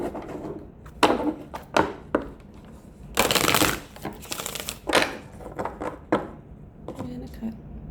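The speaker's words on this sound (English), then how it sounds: "Why am I being so sloppy with the shuffling?" A deck of tarot cards being shuffled by hand in irregular bursts of riffling and slapping, with a long flurry in the middle and scattered shorter shuffles around it, close and crisp.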